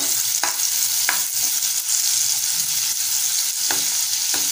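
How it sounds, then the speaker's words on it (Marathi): Finely chopped onion sautés in hot oil for tomato upma, a loud continuous sizzle close by, broken by a few sharp scraping stirs of a spoon against the pan. "तेल थोडंसं गरम झालं की त्यामध्ये बारीक चिरलेला कांदा घालूया। परतवून घेऊया।"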